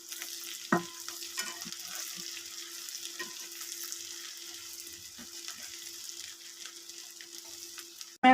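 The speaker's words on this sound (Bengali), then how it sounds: "এ পর্যায়ে আমি গোটা রসুন এবং পেঁয়াজগুলো অ্যাড করে দিয়েছি। এটা ততক্ষণ পর্যন্ত নাড়তে থাকবো যতক্ষণ পর্যন্ত না এটা ভালোভাবে লাল হয়ে আসে।" Whole garlic cloves and onions fry in a pan for a chicken curry, with a soft, even sizzle, occasional light stirring taps, a low steady hum and a sudden loud bump at the end.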